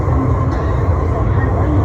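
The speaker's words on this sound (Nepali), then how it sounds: "यो चाहिँ ट्रेनभित्रको दृश्य देखाउँदैछु हजुरहरूलाई है" Steady low rumble and rattle of a moving commuter train in Hong Kong, heard from inside the carriage, continuous and fairly loud with no talk.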